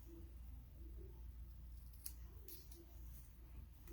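Scissors snipping the ribbon tails of a craft decoration, a few quick light cuts close by over a low steady hum, faint overall.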